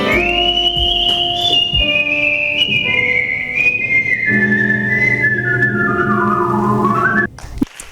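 Sustained human whistling at a whistling convention in Tokyo, a loud, clear melodic line gliding slowly downward, with a lower accompaniment beneath it and a brief soft tap near the start, cutting off just before the end.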